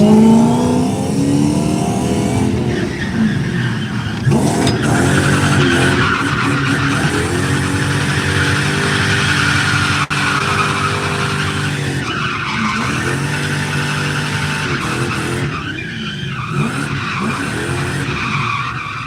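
Drift car at Norfolk Arena practice day, engine revving hard through long slides with continuous tire squeal and skidding, loud and close, pitch rising and falling as the car swings through the corner, no talking.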